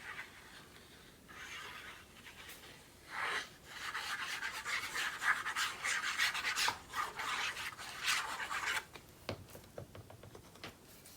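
Paper for a Stamperia craft card is scored with a tool, giving soft, close rasping strokes in repeated bursts that rise and fall over several seconds.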